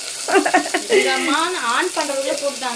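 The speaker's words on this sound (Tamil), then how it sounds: "நீல வாக்கில் கட் பண்ண ஒரு வெங்காயம் லைட்டாக அப்படியே கிளறி கொடுத்துக்கிறதாங்க" Sliced onion and green chillies sizzle steadily in a pan while being stirred, with a continuous close frying crackle under a melodic voice throughout.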